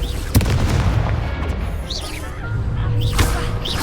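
Fiery Confringo spell blasts in the Hogwarts Legacy video game, a sharp booming burst near the start followed by rumbling explosive crackle and further bursts, dense and loud throughout.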